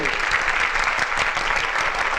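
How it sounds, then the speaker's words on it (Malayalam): A crowd applauds at an Onam community fun run, a dense and continuous wash of many hands clapping at once, loud and unbroken. "കൈയടിക്ക് നന്ദി."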